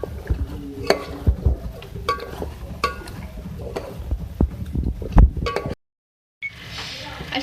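Beef aloo korma with yogurt and crushed fried onion is stirred in a metal pot, a spoon scraping and clinking against the sides in repeated close, uneven strokes, then a short silence and a softer scrape.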